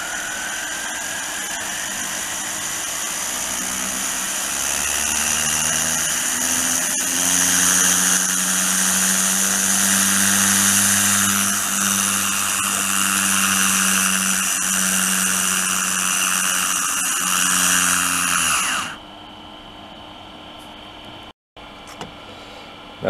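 A small homemade brushless DC motor with coils spins up, its whine climbing steadily in pitch and loudness over roughly eighteen seconds, close and continuous, before cutting off abruptly and leaving faint background noise.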